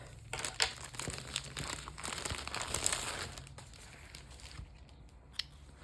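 Plastic wrapping on a package of cross-stitch fabric and supplies crinkles and tears as it is opened nearby, a dense, quiet rustle that builds and then fades to near silence, with a couple of soft taps.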